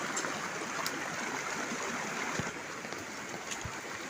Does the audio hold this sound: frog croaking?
no